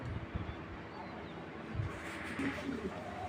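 A big Johnson pair racer pigeon coos softly in a brief, low murmur over faint wind and background noise.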